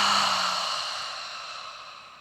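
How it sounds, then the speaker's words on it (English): A slow, audible exhale out through the mouth during a restorative yoga class, a single soft breathy sigh that starts close and fuller, then gradually fades over about two seconds. "And exhale, let it go"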